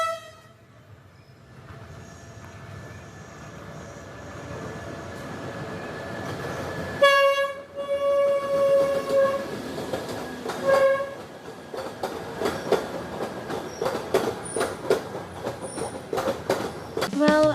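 A passenger train rumbles steadily along, a horn blaring partway through, and then a faster clatter of wheels on rail joints builds loudly. Faint voices are heard in the background.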